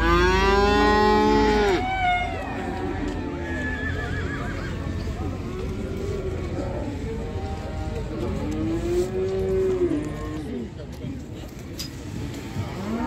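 Cattle at a livestock bazaar where calves are being sold give several drawn-out moos over a steady crowd murmur, with a loud, broad burst at the start and a horse or two neighing amid market chatter.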